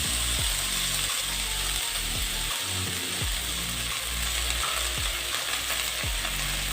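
Chopped spinach cooks in a pan for a pachadi under a loud, constant frying hiss, with a spatula scraping the pan at a regular beat about every half second to second.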